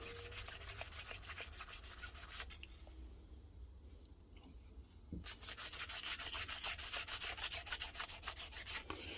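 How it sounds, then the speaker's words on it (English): A Suzuki TS125 cylinder is sanded by hand with 3000 grit sandpaper, quiet close rhythmic scraping strokes that pause for a few seconds midway and then resume at a steady pace. "I find that the 3000 grit sandpaper really does a number on it"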